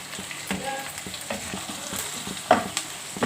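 Onion, freshly pounded ginger garlic paste and turmeric fry in a pan for a ridge gourd tomato curry, with an even close sizzle, scraping spoon strokes and a couple of sharp taps against the pan.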